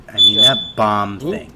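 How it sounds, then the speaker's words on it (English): A fire alarm in a building gives a steady, shrill high electronic tone that stays on for about half a second. It then breaks off while people keep talking over it. "no, I think that was a fire alarm in my building"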